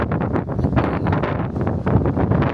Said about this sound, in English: Today isn't a horrifically windy day, but it is windy.